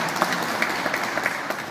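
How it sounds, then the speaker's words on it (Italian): Crowd applause at an award ceremony for a nativity-scene exhibition and competition, a steady dense patter of many hands clapping together, moderately loud and unbroken, with no voices over it. "Quindi un applauso a Rosa"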